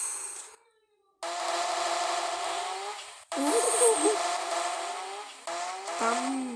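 A drivable car from a Minecraft car mod sounds out in loud synthetic engine bursts that rise and fall, broken by brief silent gaps between stretches of revving.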